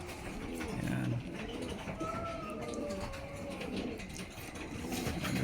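Young pigeons about a month old and their parents, soft repeated cooing pulses in a coop under a background engine hum, with faint tonal chirps.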